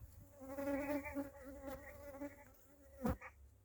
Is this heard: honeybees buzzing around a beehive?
yes